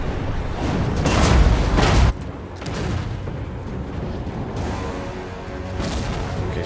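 Tower artillery firing in the Total War Warhammer game, a heavy rumbling boom and roar that swells for about two seconds and drops off abruptly, followed by fainter rumbling blasts and a lingering low din.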